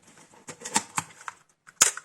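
A Canon AE-1 film camera with a stuck mirror gives a series of small mechanical clicks and snaps from the shutter release and advance, close and dry, ending in one sharper click.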